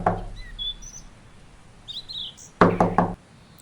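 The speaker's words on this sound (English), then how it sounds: "He decided against using it and knocked on the door" A knock on a wooden door: one sharp rap at the start, then three quick, close knocks near the end, with faint bird chirps in between.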